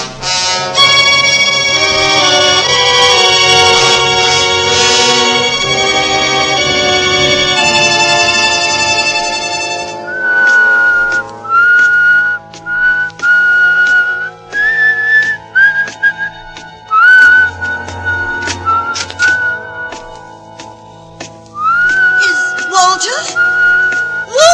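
A man whistles a tune in a 1950s radio mystery drama, loud and clear, over orchestral music that fades out midway, then alone with brief gaps between phrases.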